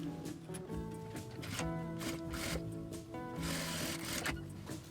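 A sewing machine stitching fabric pockets for a box-style pencil case, its rapid mechanical whirring running in bursts with brief pauses between stitching runs.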